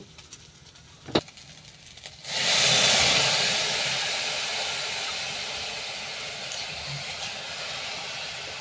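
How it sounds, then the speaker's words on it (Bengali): Water pours into a hot pot of rice, setting off a loud, steady steam hiss that starts suddenly and slowly fades over several seconds, close by, after a faint knock beforehand, with no talking. "তাহলে আমি দু বাটি এখানে জল দিয়ে দেব"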